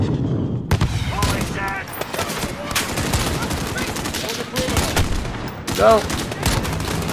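Bursts of rapid automatic gunfire and single shots crackle through a Call of Duty: Modern Warfare campaign firefight, loud and continuous, with a player shouting over the shooting.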